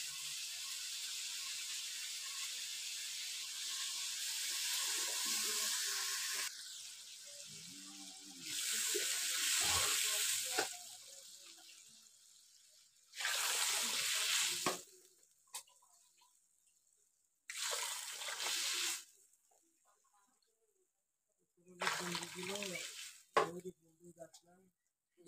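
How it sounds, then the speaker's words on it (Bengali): Water pours into a cooking pot of spiced fish and bean seeds in several separate hissing bursts of a few seconds each, with quiet gaps between them. "জল দিয়ে দিই।"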